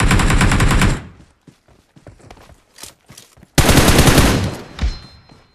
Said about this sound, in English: Tembak bang.